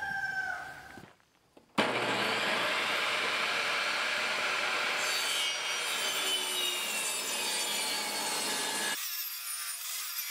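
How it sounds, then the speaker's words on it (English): A table saw spins up and cuts through rustic barn board with a loud, sustained whining rasp that lasts several seconds before it stops abruptly. "I gotta go get the table saw now."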